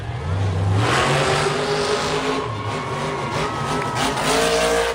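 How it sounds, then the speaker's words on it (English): Monster truck engine revving loudly at Bristol Motor Speedway during a freestyle event, a continuous roaring drone with surging bursts of throttle and crowd-filled arena noise, no talk over it. "Rev that motor."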